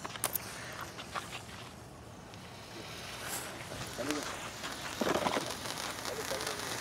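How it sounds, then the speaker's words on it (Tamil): An ice-cone ice cream fountain firecracker burning outdoors, giving a steady rough hiss and crackle with sparse pops, while people talk nearby. "ஐஸ்கோன் ஐஸ்கிரீம் வெடி வந்து பார்த்தீங்கன்னா வெடிக்க போகிறோம்"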